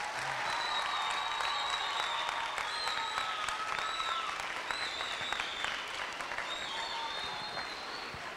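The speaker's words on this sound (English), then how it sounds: "Please give him a round of applause." An audience applauding in a school gym fills the room with sustained, reverberant clapping, while cheers and whistles rise above it at intervals throughout.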